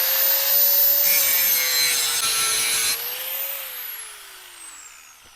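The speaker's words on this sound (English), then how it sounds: "So I'm going to take my grinder and clean this off a little bit right here." Angle grinder cleaning steel on a homemade trailer before welding, a loud steady high whine that drops in pitch and fades after a few seconds as the disc spins down.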